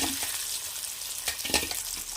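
Ivy gourd pieces frying in a pan, a fresh batch crackling with a steady broadband sizzle throughout and a few brighter pops, close and fairly quiet, no talking.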